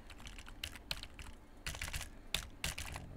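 Computer keyboard keys, the W and S keys, pressed in short irregular taps and small bursts, close and fairly quiet, with no voice.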